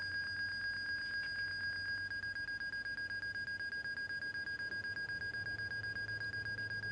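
A flight simulator cockpit alarm tied to the flaps rings as a continuous high-pitched tone, with a bell-like pulsing over the first couple of seconds before it settles into a flat, persistent beep over a low hum.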